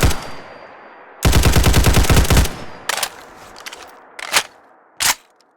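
A modded gun in Fallout 4 fires a rapid, loud automatic burst of about a dozen shots, followed by a few separate single shots and sharp mechanical clacks.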